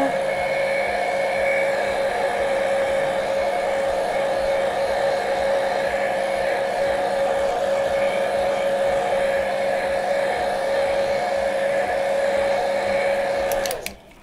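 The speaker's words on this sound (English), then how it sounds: "So I'm gonna take the dryer and dry this." A heat gun drying paint on a painting, a loud steady whirring blow with a constant high whine that runs continuously and cuts off abruptly at the end.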